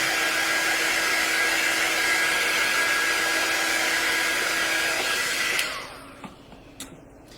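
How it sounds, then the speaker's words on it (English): A hair dryer blows steadily and loudly on a craft project for over five seconds, then cuts off, leaving a few faint knocks and taps in the quiet that follows. "Sorry about the drying."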